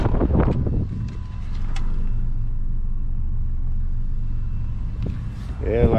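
A car's engine idles quietly, a steady low rumble with some wind noise on the microphone, and a person talks briefly at the start and end.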